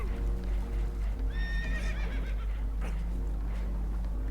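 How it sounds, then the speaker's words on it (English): Spooked horses in Red Dead Redemption 2 whinny loudly over a constant low rumble, with clip-clopping hooves and some shuffling noise around them, and no voices. "Horses are spooked"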